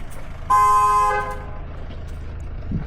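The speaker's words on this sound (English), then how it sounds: "nothing like a nice gentle toot to get someone out of their house into your car" A car horn gives a single short, clear toot lasting about half a second, loud and close over the low hum of a vehicle interior on the road.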